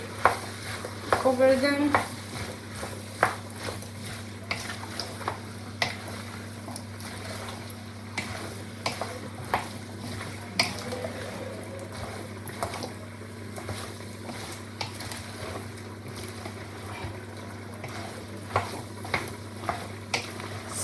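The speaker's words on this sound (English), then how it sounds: "Now we mix this with all the veggie." A beef or vegetable stew being stirred in a pot with vegetables, giving a soft, steady simmering sizzle with faint scraping stirs and occasional light clinks, quiet and continuous throughout, with a few brief spoken words early on.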